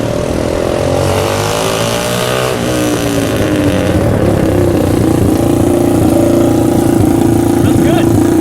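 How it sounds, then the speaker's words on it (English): A loud, rumbling mini chopper motorcycle engine with straight pipes running up close, revving briefly and then settling into a steady, throaty idle. "Just got to make noise with the straight pipes on this thing."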